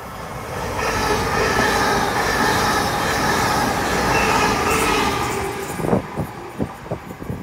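Five-car Class 800 IET train, a late-running London Paddington to Penzance service, passing at Dawlish Warren: a loud sustained rumble and rush of wheels on rail, fading into several rhythmic clicks as the last cars clear.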